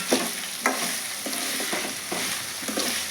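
Food sizzles steadily in a pan while a utensil scrapes and stirs in repeated strokes, close up, with no talking.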